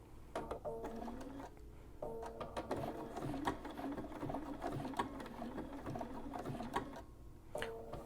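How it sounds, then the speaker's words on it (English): A sewing machine works a blanket stitch on appliqué fabric, running in quick rattling bursts with short pauses as the stitching pattern shifts, close and fairly quiet. "Then I'm going to start sewing."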